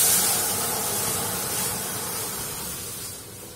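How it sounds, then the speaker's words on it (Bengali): Dried red chillies and five-spice tempering sizzle in hot oil, a steady broadband hiss that starts loud and fades gradually over a few seconds, with no talk. "তো শুকনো লঙ্কা আর 5 ফোড়ন আমি ফোড়নে দিয়েছি।"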